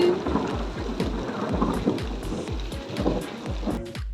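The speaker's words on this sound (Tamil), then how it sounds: "ஆமாம் இடி இடிக்குது" Thunder rumbling in a rainy storm outdoors, a low continuous roll with repeated deep pulses under steady rain noise, with no speech.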